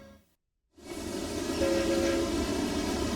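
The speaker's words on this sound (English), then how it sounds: "when this train stops" A cartoon train rumbles along with a steady, loud rolling roar, and a sustained horn tone sounds over it after a short silence at the start.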